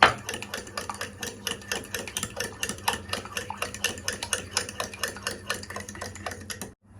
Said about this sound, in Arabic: هقلب كده البيض مع الزبادي كويس